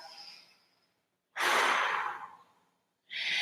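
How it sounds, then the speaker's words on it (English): Deep, forceful breaths after a cardio HIIT workout: a faint exhale fades out, then a loud, long breath follows after a pause, and another strong breath begins at the end, with no talk. "Big, deep breaths. Exhale."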